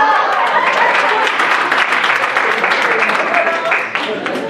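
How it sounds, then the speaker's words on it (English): An audience at a leadership talk breaks into a steady, dense round of applause, loud and sustained with a faint crowd murmur, tapering slightly at the end. "Please give a round of applause."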